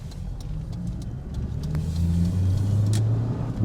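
A Vauxhall Cavalier mk2 engine accelerating on the road, a steady mid-pitched drone whose tone climbs smoothly as revs build, heard close from inside the car with road noise underneath.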